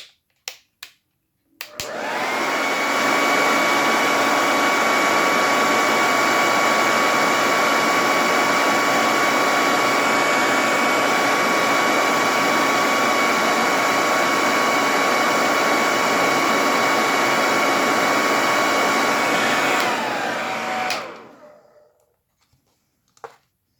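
A heat tool blows hot air onto an acrylic nail tip, a loud steady whooshing roar lasting about twenty seconds after a few faint clicks, then cutting off.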